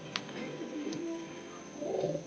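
A soft, low pigeon coo rolls along steadily from birds kept in a cage, with a few light clicks over a constant faint hiss.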